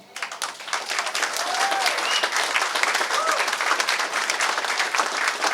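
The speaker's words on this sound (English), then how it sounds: "we got to give him a round of applause" Crowd at a New Hampshire town hall with Republican Senate candidate Don Bolduc breaks into sustained, even applause for a committeeman, with a few scattered whoops, building quickly and holding steady.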